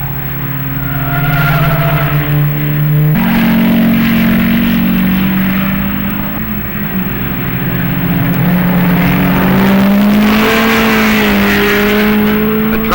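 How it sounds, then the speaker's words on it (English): Racing cars from 1958 at Road America roar up the straightaway, a loud sustained engine drone with shifting pitch as they accelerate and pass, no voices over it. "Note the cars going up the straightaway in the background."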